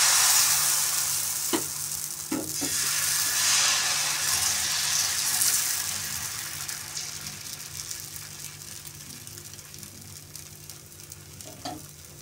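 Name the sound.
jowar dosa batter sizzling on hot pan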